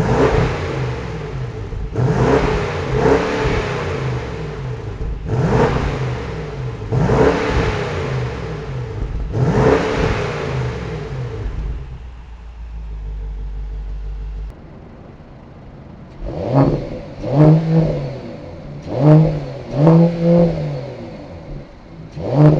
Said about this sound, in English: Let me throw in a side-by-side exhaust clip right now so you guys can hear the two back-to-back.